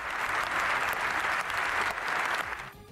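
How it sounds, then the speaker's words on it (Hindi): British MPs stand in Parliament and applaud Zelenskyy at length, a sustained, even roar of many hands in a large chamber that drops off abruptly near the end. "ज़ेलेंस्की के सम्मान में खड़े हुए सांसदों ने देर तक तालियां बजाई।"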